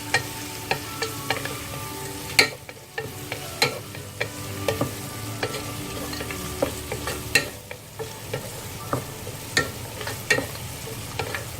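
Onions and green chili fry in a pan for a Sri Lankan style chicken curry, a steady sizzle broken by repeated scraping clacks of a spoon stirring, close and clear with no talking.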